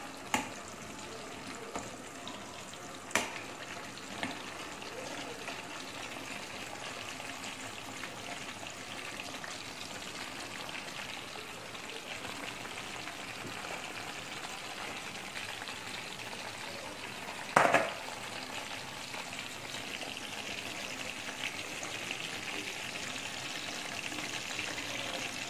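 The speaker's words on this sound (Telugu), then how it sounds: "ఇలా ఉల్లిపాయలు బబుల్స్ లాగా వస్తాయి మనకు ఉడికితే" Onions deep-frying in about half a litre of oil, a steady bubbling hiss that runs without a break, near and fairly quiet, with a few faint clicks and one brief louder clatter partway through.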